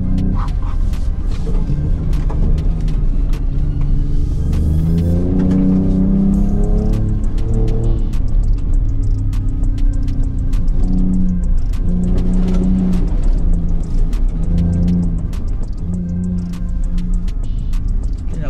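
A 2024 Ford Ranger Raptor pickup's engine drones and revs steadily while driving over a rough, muddy off-road course, with continuous rumbling and occasional knocks and rattles throughout.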